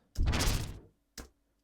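A short synthesized whooshing burst with a wobbling, rapidly modulated filtered texture, followed by a brief softer echo of the same sound.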